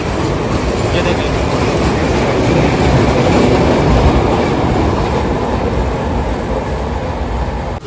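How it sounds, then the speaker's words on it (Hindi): A small Sri Lankan local train of ten to twelve carriages passing close by, a loud continuous rumble with rattling wheel noise that swells and holds for the whole stretch, with a voice faintly underneath. "ये है भाई श्रीलंका की लोकल ट्रेन"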